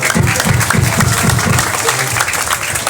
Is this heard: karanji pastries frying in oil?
no